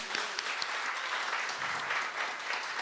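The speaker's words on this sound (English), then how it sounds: "So Uhuru, give yourself an applause" An audience at a Days of Reparations to African People event in St. Pete claps steadily for about three seconds, an even, fairly distant and soft patter.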